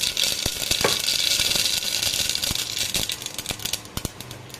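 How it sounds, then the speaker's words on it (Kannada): Mustard seeds sputter in about a tablespoon of hot oil: a constant sizzle broken by sharp, irregular crackling pops, close and moderately loud. "ಸಾಸಿವೆ ಚಿಟಪಟ ಆದಮೇಲೆ"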